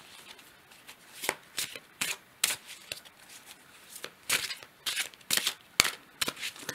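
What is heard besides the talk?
shuffling tarot cards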